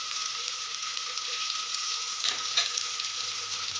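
Chopped tomato fries in a pan for egg biryani, a close, steady sizzle and hiss with a faint stir or scrape partway through.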